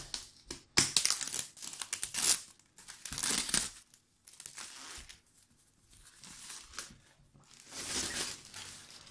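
Packaging of the Teotihuacan board game being opened, with bursts of crinkling, tearing and rustling plastic and cardboard handled close by, separated by short quiet pauses.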